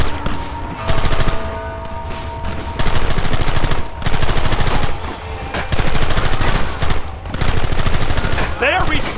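A rapid, loud firefight in the Western video game Red Dead Redemption, with rattling bursts of automatic and repeated gunfire coming in waves, broken by brief lulls, with voices shouting over the shooting.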